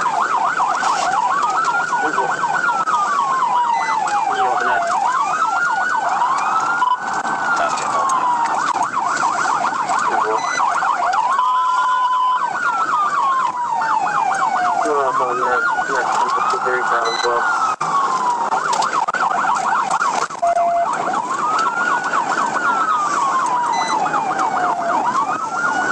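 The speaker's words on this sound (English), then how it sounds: "The Charger blew its siren through the city, running red lights like no law" A police Charger's siren wails continuously through a city during a high-speed chase, its pitch sweeping up and down in repeating cycles over steady road noise, loud and close throughout.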